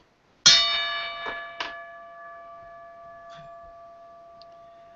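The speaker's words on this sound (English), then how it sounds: "we'll put the bell up here." A single bell struck loudly up close with a sharp metallic clang, followed by a couple of lighter taps and a long ringing tone that slowly fades.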